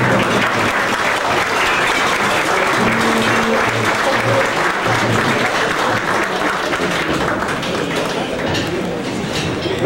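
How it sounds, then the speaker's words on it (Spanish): An audience breaks into loud, sustained applause at a formal ceremony, dense clapping filling the space from start to finish. "le pedimos un fuerte aplauso"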